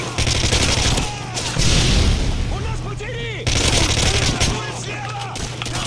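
Rapid gunfire bursts from a Call of Duty MW3 match, loud and continuous across the clip with brief pauses, mixed with game effects and some voice underneath.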